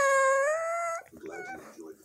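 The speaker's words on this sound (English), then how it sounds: "This dog is biting my fingers." A dog chewing on a person's fingers lets out a single drawn-out, high, nasal whine that holds steady for about a second, then a voice speaks briefly over faint rustling.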